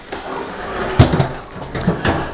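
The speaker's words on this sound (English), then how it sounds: "saloon doors" Swinging saloon doors on the second floor of a brick house give two or three hollow knocks and flaps against a quiet room background.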